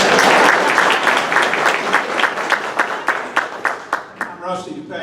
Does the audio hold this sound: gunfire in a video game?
no